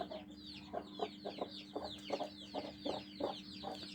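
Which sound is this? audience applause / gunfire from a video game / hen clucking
hen clucking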